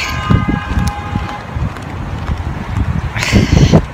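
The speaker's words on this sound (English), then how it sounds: "It's windy." Gusty wind blows outdoors in cold weather, a steady broadband rush with louder gusts near the start and end, picked up on a handheld microphone with no talk over it.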